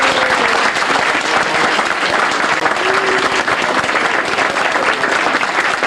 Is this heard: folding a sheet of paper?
no